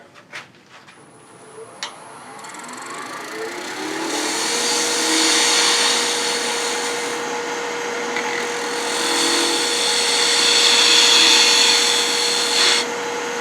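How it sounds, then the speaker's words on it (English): A wood lathe spins a Roman-style flask as a spindle gouge tapers it, a steady motor hum rising in pitch at spin-up, then a continuous rough hiss of cutting that swells and eases, ending with a click. "taper this in a little bit more with this spindle gouge"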